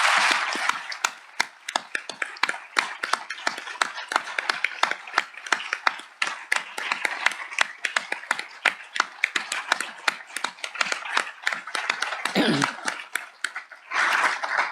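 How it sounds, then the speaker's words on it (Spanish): Loud, sustained applause for the Trelew comrades at a reading event, with dense clapping from a crowd lasting about fourteen seconds and a brief dip near the end before the clapping swells again. "También me gustaría un aplauso fuerte para los compañeros de Trelew."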